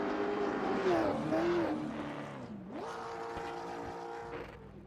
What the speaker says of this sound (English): Coming around once again to keep the burnouts going